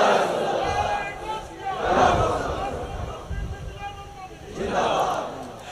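A crowd at a Bengali Islamic sermon on Surah Ar-Rahman shouts back in unison to the call for Takbir, with loud massed voices swelling in about three waves, the strongest near the start and end.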